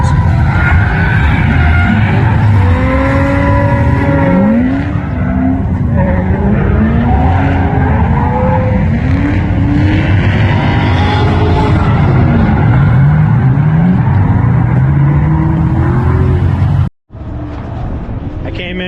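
A car drifts around a track at a drift day event, tires squealing in long, wavering screeches over a loud, revving engine, close and continuous throughout.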